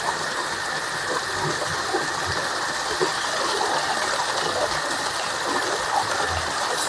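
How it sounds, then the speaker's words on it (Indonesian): A modified Z500 water pump sends out a strong two-inch flow of water, a loud continuous gushing rush with a faint engine hum beneath, steady throughout with no talk. "Sangat deras sekali, debit airnya full 2 dim ya."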